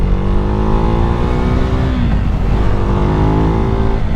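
A loud Husqvarna Svartpilen 401 motorcycle engine with DNA and K&N aftermarket air filters runs steadily, its pitch rising and falling as it revs and accelerates, close and continuous with no voices.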